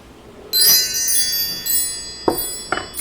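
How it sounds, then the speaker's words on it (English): Wind chimes ring out with a bright, shimmering burst that sustains and slowly decays, followed by two more sharp metallic strikes near the end, loud and alone without speech. "Let's call in Spirit with some wind chime time."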